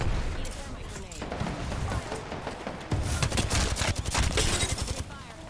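Gunfire in Apex Legends during a squad fight: rapid automatic bursts and scattered shots, growing denser and louder in the second half, with voices talking over the firing.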